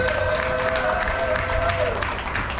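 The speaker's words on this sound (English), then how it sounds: "I think these kids all deserve a round of applause" An audience claps steadily at a commercial dairy cattle show, a moderate crowd applauding with a faint sustained tone running underneath.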